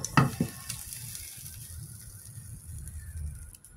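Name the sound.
garlic sautéing in a hot pan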